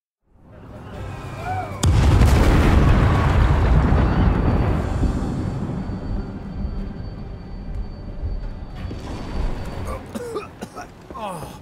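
Explosions during an attack in the video game Gangs of Sherwood, a heavy booming blast that swells and slowly rumbles away, followed by scattered crackles and a voice near the end.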